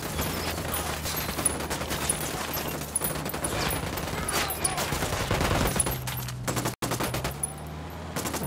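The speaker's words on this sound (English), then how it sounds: "I'm shooting these fuckers." Sustained automatic gunfire while shooting enemies in Ghost Recon Wildlands, steady rattling bursts layered over game background sound, briefly cutting out near the end.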